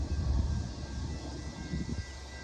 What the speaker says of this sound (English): And here comes our first train.